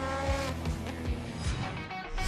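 SUPER GT racing cars scream along the track, loud engines revving with repeated sharp downshift and pass-by sweeps, alone without talk.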